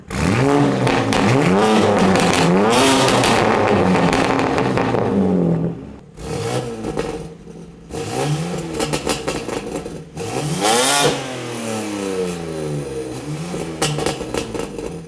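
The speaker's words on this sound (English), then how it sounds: "now with MHD aggressive burbles" A BMW G80 M3 with a 4-inch exhaust and an MHD aggressive burble tune revs hard in rising and falling sweeps, then crackles and pops with aggressive burbles between throttle blips, loud and close.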